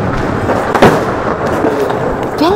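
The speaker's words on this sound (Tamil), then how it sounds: "ஒரே பட்டாசு வெடி சத்தமா இருக்குது" Firecrackers crackle and pop in a dense, noisy backdrop, with a few sharper bursts and whistling rockets rising near the end.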